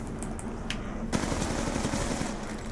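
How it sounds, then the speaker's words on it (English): Sustained automatic gunfire cutting down zombies in Black Ops 2 Zombies on the Die Rise map, a continuous rattling stream of rapid shots at close range with a sharper burst midway and no talk over it. "Let's go and keep on shooting into these guys as well"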